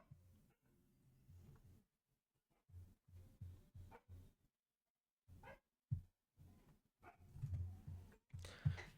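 A dog whines somewhere indoors, giving a few short, faint, tonal cries that come in broken bursts toward the end, with quiet room noise between them and no talk.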